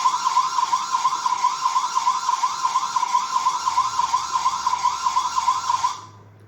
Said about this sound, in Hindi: तो ये कैमरा बल्ब पे एक पुलिस सायरन बजा देगा।